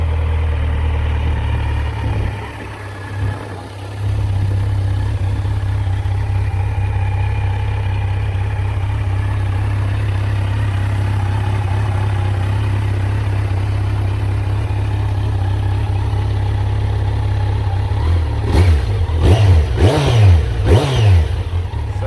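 A Kawasaki Z900 motorcycle engine idles with a steady low throb, then revs up in several quick rising bursts near the end, loud and close.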